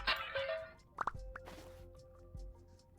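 In the Vintage Story survival game a cracked vessel is broken open with a few short, soft game clicks and pops, a quick double knock near the middle, and a brief crumbling rush after it, all quiet and with no talk.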